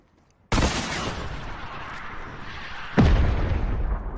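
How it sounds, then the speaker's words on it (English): RPG fire in a video game aimed at a tree: a sudden loud blast that sustains into a rumbling roar, then a second heavy explosion a few seconds later, with no talk. "If they are, you can just fire an RPG there"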